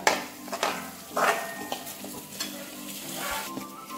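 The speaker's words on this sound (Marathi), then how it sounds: "आता यावर आपण हे जे दही तयार करून ठेवले ते घालूया। छान असं मिक्स करूया।" Yogurt is stirred into a pan of dahi bhindi okra masala cooked with besan: close scraping spoon strokes through a thick mixture over a soft, steady sizzle, with no talking.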